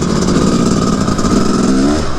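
Four-stroke off-road dirt bike engine revving loudly and close, a steady throaty drone with a slight rise in pitch near the end, no talk over it.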